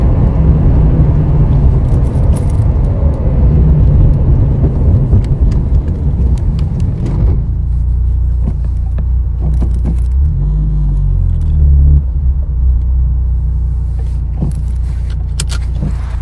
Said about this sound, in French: il y a d'ailleurs justement un petit son de 5 cylindres, et bien là, pas besoin justement d'artifice, c'est vraiment un 5 cylindres sous le capot